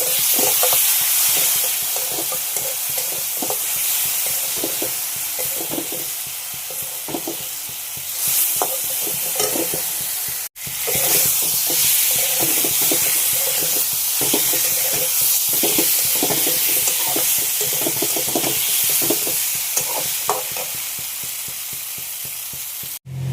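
Onions frying in a pan with salt, turmeric and Kashmiri chili powder, stirred steadily: a constant loud sizzle with repeated scraping strokes of the spoon, close by and with no talking.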